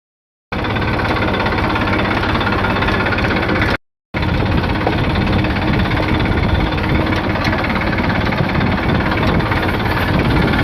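A loud tractor diesel engine, with a punctured tyre, runs steadily with a rough, rapid knocking rhythm, broken by one brief dropout of silence partway through.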